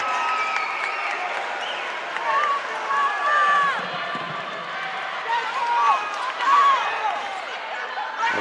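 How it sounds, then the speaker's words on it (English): Crowd amped up for the Chipola Indians at a men's college basketball semifinal, sustained cheering and clapping with sneaker squeaks on the court cutting through the arena din. "As you hear the crowd amped up for Chipola Indians right now."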